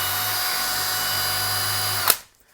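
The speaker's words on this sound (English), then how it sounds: "we use a 3/16 drill bit, and we ream our hole out slightly so that it can fit the new grommet" Power drill spinning a 3/16 drill bit to ream out a grommet hole on a MOLLE strap, a steady close whine that stops abruptly near the end, leaving near silence.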